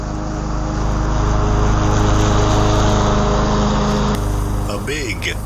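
A curbside-rescued 2012 Yard Machines 11A-A54R729 lawn mower runs with a loud, steady engine drone, then the tone shifts abruptly near the end as the running changes.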